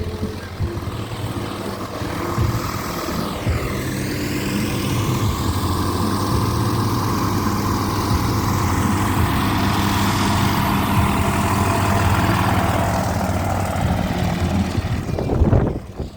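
A Carbon Cub light airplane's flat-four engine runs steadily at a fly-in airport event, a continuous droning hum that stays up close and fairly loud for the whole stretch, swelling briefly near the end, with no talk over it.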